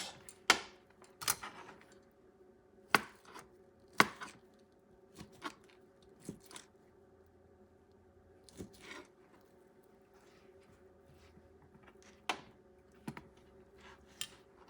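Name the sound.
knife cutting food into quarters for chickpea sausage stew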